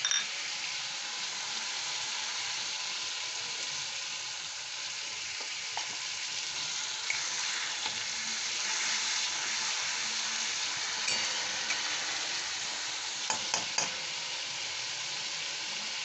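Spices and marinade for chicken bhuna khichuri sizzle in hot oil in a pan: a steady, even frying hiss that runs throughout, broken by a few faint clicks and taps near the end.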